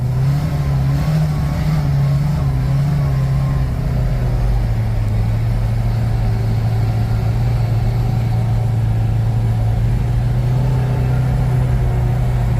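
A Kawasaki RIDGE utility vehicle runs in high-range four-wheel drive with limited slip, its engine droning steadily and close by with a low, continuous hum and slight shifts in pitch throughout.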